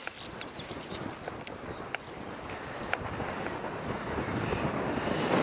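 Strong wind gusting around a tent perched on a hill above a valley, a steady loud roar with buffeting on the microphone that builds toward the end, with no voices.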